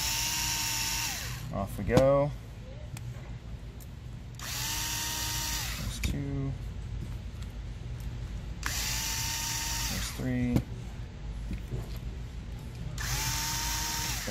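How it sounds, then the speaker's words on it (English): A power drill backs out the back plate screws on a frozen Traxxas nitro engine in four short, close whirring bursts separated by quiet pauses, with someone speaking briefly in between. "Obviously you can do this with hand bits, but I'm lazy and I love my drill"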